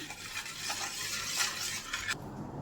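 A spoon stirs salt into water in a bowl, giving a run of soft scraping and light clinking strokes, close and moderately quiet, with no talking.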